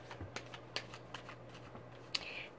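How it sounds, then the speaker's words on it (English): Tarot cards shuffle softly in the hands, a quiet run of light papery riffles and taps with a few sharper snaps, close by over a faint steady hum. "I shuffled enough"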